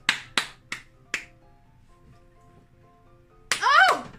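Four sharp hand claps, spaced about a third of a second apart, ring out close and crisp in a quiet room, followed after a pause by a brief voiced exclamation.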